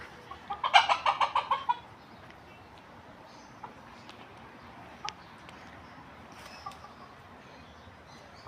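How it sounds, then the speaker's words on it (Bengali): A big native rooster among a flock of local chickens on a farm in Saudi Arabia lets out a quick run of loud, close clucks near the start, followed by quiet outdoor ambience with a few faint clicks. "এটা হচ্ছে মোরগ।"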